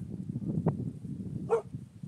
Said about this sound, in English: don't you be barking the doggies